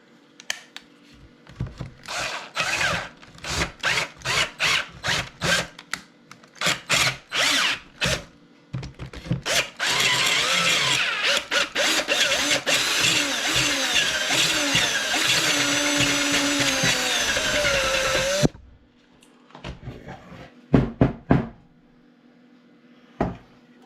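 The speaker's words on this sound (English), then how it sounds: "I'm gonna try drilling that a little bit more." A power drill whirs in a string of short, loud bursts, then grinds steadily into wood of a four-legged stool for several seconds before stopping, followed by a few clunks.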